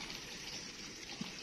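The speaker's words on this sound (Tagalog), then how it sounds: "Ang gripo namin, no?" A kitchen faucet runs in a home, making a steady hissing stream of water, faint and continuous through the brief moment.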